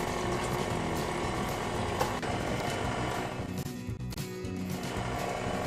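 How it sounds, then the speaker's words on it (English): An electric mixer runs on high, beating cream cheese, condensed milk, sugar and zest, giving a steady close whirring and rattling drone that barely changes throughout. "we'll put the cream cheese, the condensed milk, sugar, and zest into a mixer on high"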